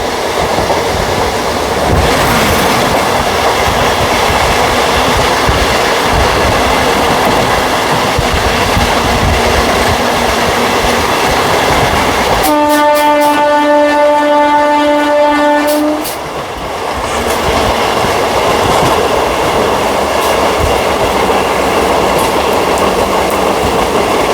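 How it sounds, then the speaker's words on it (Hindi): A superfast express train from Chandigarh to Madurai passes near Nagpur junction with a loud, continuous rumble and rail clatter, and a steady horn blast sounds for several seconds midway before the roar carries on. "वो ट्रेन थी चंडीगढ़ से चढ़ के मदुरई जाने वाली सुपरफास्ट एक्सप्रेस"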